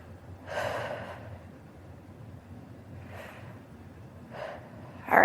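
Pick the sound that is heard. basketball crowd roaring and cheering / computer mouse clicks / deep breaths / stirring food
deep breaths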